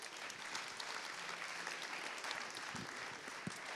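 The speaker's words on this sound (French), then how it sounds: "On peut l'applaudir." An audience at a climate plan committee meeting in Lille applauds, a dense, steady wash of clapping lasting several seconds with a few sharper individual claps near the end.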